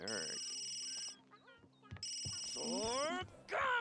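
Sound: telephone ringing in the video game Sims 3

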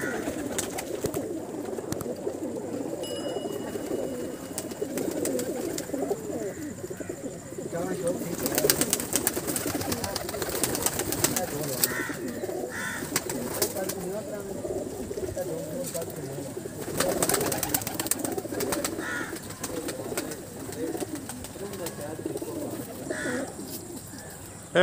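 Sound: breeder pigeons cooing

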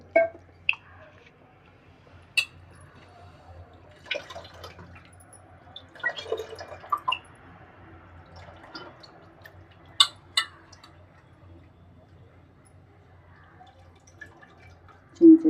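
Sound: tamarind water poured into Ravas fish curry

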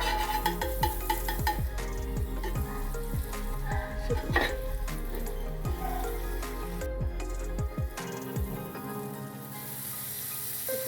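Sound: pav bread warming in butter on a pan

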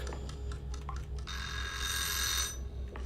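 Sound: alarm ringing in the kitchen, Hello Neighbor 2 video game

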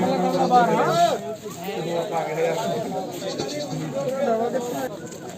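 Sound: goats bleating at a goat market

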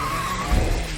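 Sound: super truck slowing down, skidding to stop robot

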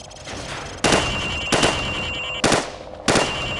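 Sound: rifle shots fired from the hip at targets, Call of Duty 4 video game

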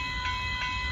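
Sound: southbound Amtrak train and northbound BNSF freight train passing

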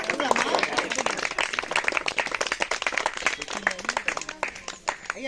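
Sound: audience clapping

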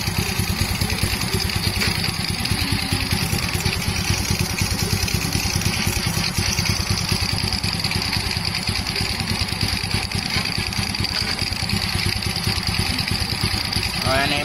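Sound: Honda Wave motorcycle engine running during carburetor test

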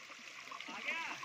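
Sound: water flowing from a pipe

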